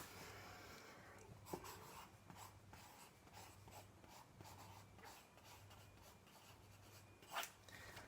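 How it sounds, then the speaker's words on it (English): Pen or marker writing out a word by hand on paper during a one-on-one reading lesson, giving close, soft scratchy strokes in short bursts over a low steady hum, with one brief sharper tap. "Let me just write that out for you."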